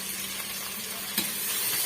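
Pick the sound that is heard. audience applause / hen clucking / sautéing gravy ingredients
sautéing gravy ingredients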